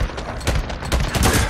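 Rapid bursts of raider gunfire in the video game Days Gone, a loud volley of repeated shots stacking up over a short stretch with no talking.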